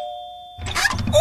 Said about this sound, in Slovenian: očitno bom kar pozvonila